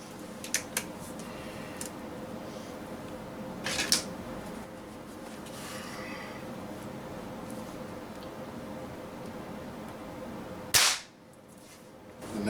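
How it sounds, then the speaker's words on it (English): Gamo Magnum .22 caliber pellet rifle with IGT Mach 1 gas piston firing a 21.14-grain H&M Barracuda pellet outdoors, one sharp crack near the end after quiet ambient noise and a few small mechanical clicks. "first Gamo Magnum shooting the H&M Barracuda"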